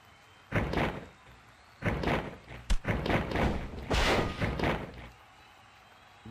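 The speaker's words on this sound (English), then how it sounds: "Drewski Huxley firing away with some knees to the gut, dropping that knee down on Ace" A wrestler's knee strikes and a knee drop thud onto the mat in a string of heavy, close impacts, several dull blows in quick bursts with one sharp slam near the middle.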